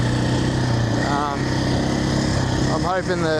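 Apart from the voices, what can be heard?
2025 KTM Champion Edition motorcycle engine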